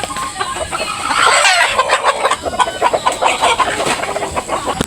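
Kelso gamefowl, including a pure white Kelso line and three-way crosses, clucking and chattering close by in a busy, overlapping flock with a rising squawk near the start.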